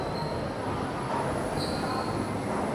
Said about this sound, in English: That's a train coming through